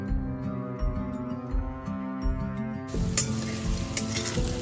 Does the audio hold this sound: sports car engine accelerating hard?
no